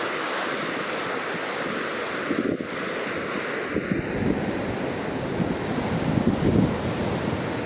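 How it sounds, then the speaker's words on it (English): Big Pacific Ocean waves roll in at Washaway Beach, Washington, a continuous loud surf roar with breaking swells, buffeted by heavy wind noise on the microphone, and no one speaking. "But this is the Pacific Ocean, guys"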